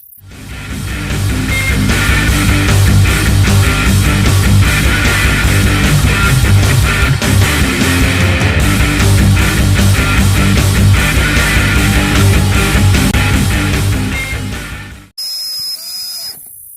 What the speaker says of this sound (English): First, naturally, we need to drill our pilot holes